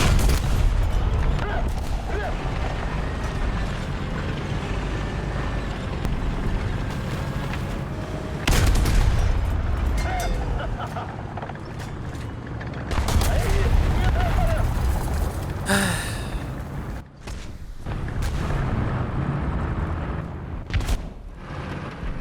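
Tank cannon fire in the video game War Thunder, with several heavy booming shots at irregular intervals among rumbling engine and battle noise, loud and close.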